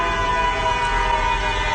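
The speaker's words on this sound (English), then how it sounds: "there are so many sirens, and everybody's honking" Busy New York City street on Broadway during a blackout, a dense continuous wash of traffic noise with distant sirens and car horns blending in, steady and moderately loud with no single sound standing out.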